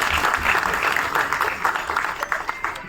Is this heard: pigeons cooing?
no